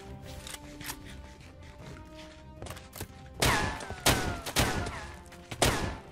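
Raiders fire guns in a Minecraft zombie apocalypse game. Soft clicks and thuds give way to several loud, sharp bursts of shots in the second half, close and uneven in rhythm.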